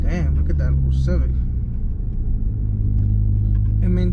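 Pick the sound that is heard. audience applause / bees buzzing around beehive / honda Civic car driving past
honda Civic car driving past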